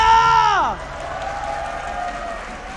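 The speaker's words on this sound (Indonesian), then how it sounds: "IPL Arena sekali lagi, mari kita ramaikan tepuk tangannya!" A crowd at the MPL Indonesia esports arena claps and cheers between games of an RRQ vs Aura Mobile Legends match. A loud tone fades out first, then steady, fairly close applause and cheering carry on.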